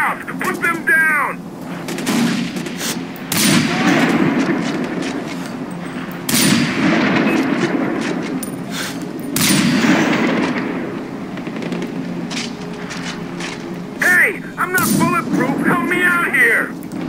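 Sustained gunfire in the Far Cry 4 video game, repeated loud sharp shots and bursts over a rumbling combat din for many seconds, with voices shouting at the beginning and near the end.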